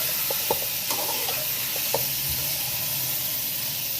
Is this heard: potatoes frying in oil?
yes